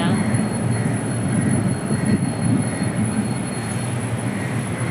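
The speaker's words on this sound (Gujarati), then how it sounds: "આ જો મેટ્રો ટ્રેન આવી ગઈ છે" A metro train rumbles into a station with a heavy, steady low roar of wheels and a faint high whine that stay loud and constant, close by, with no voices.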